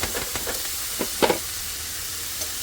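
Tomatoes hit hot oil with turmeric in a pan, raising a steady close sizzle and hiss with a few sharper crackles and pops throughout.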